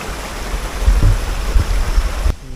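Water flows steadily in a continuous, close rushing wash from the Netravati river near its source on a mountain trek, with no voices over it.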